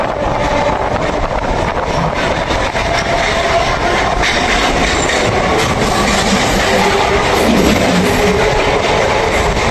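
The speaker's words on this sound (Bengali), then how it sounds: "আর সেই সাথে আমাদের ট্রেন ছেড়ে দিয়েছে" A Sealdah–Barasat local train pulls away and runs at speed, a loud continuous rumble and roar of wheels on track with faint clatter, heard from inside the moving train with no one speaking.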